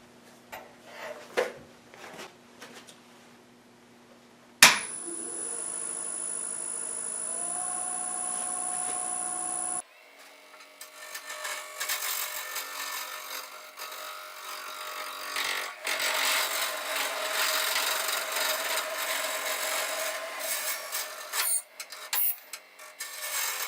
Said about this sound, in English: Okay, I mounted this on the lathe. It's going to be interesting turning this